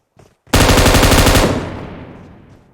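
Automatic gunfire in the PUBG Mobile game: a single loud, close burst of rapid shots follows a faint click and then fades with a ringing tail, with no talk.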